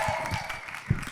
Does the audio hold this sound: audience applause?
yes